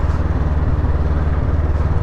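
A 2024 Honda Hornet 500 engine pulls in second gear below 2,000 revs at about 14 mph, a steady low chugging throb with no other sound.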